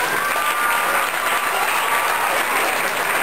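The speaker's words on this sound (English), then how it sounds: "let's have a round of applause for all these gals here tonight" An audience at the Sac County Fair queen contest applauds loudly and steadily, a dense wash of clapping that holds for a few seconds without a break.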